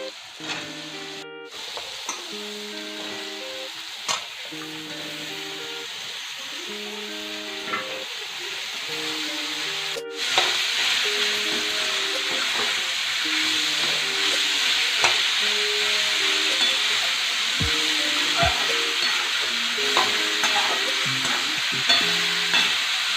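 Pumpkin pieces sizzle and fry in a pan while being stirred, with steady close hissing, repeated scraping stir strokes, and the frying growing louder and denser partway through.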